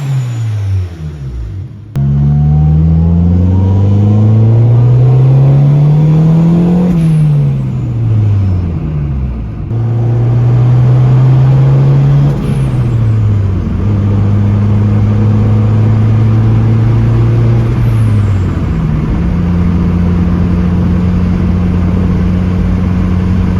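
A car engine with an RS-style sequential blow-off valve revs loud and close, its pitch climbing and falling through several pulls, with a sharp hissing whoosh from the valve each time the throttle lifts.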